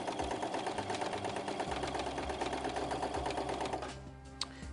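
A Brother NX-200 computerized sewing machine stitches free-motion stippling, a close, steady rapid needle chatter that runs continuously and then stops near the end.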